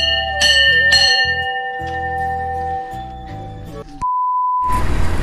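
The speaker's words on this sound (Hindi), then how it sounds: "एंड घंटी भी बजा देते हैं।" A bell at an old Mahadev Hindu temple is struck twice in quick succession, and its bright metallic tones ring on and decay. The sound ends with a short burst of broadband noise.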